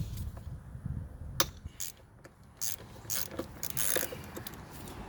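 A ratchet clicks as water pump bolts are broken loose on a 1998 Mustang GT, with a series of close sharp ratcheting clicks and metallic snaps over a faint background hum.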